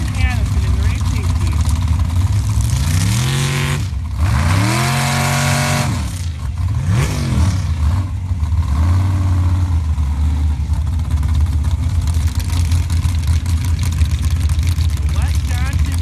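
Sand drag racing Jeeps at a race start, with engines revving in rising and falling sweeps, loud and close, under continuous commentary from an announcer.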